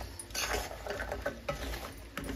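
Gorumitilu, small fried dough sweets, are stirred into jaggery syrup in a pan, giving close, quiet scraping and clinking strokes at an uneven rhythm with no talk.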